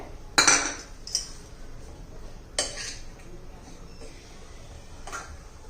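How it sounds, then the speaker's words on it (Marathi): While peanuts and onion are added to an onion chutney, a spoon knocks sharply against a dish a few times, with a crisp clink near the start and softer taps spaced through a quiet background. "आता त्याच्यामध्ये आपण हे शेंगदाणे आणि कांदा ठेवलेला घालून घेऊया"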